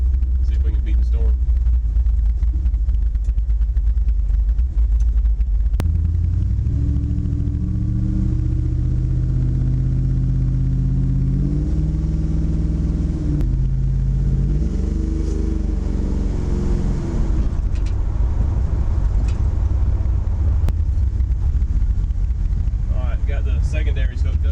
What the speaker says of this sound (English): Do a wide open throttle and see where the secondaries are at.